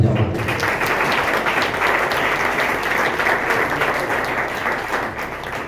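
A crowd at a monthly meeting of a pastors' welfare association breaks into loud applause, dense and steady clapping from many people throughout, with some voices faintly underneath.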